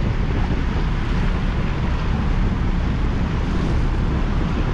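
Motor boat pulling out of Spakenburg harbour in the Netherlands, with a steady broadband rumble of water, hull wash and wind buffeting the microphone, constant and close throughout with no voices.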